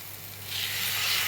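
Water splashes into a pan of frying bitter gourd and potato pieces, a steady hiss that swells and brightens midway and holds loud to the end, with no voices.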